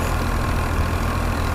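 A Fiat 480 tractor, an old 55 hp model, runs steadily while driving a thresher, giving a continuous low engine drone with a constant, unbroken rumble close by and no voices.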